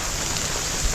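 Steady rain hisses in a continuous wash of noise outdoors during a storm turkey hunt, close and fairly loud, with no other sounds and no voices.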